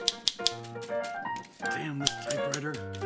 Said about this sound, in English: Damn this typewriter.